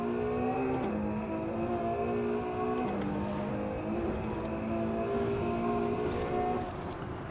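A Ferrari 812 Superfast's 800-horsepower engine pulls hard on a track, a steady, loud, close-miked drone with rising harmonics that briefly dip at each gear change before climbing again.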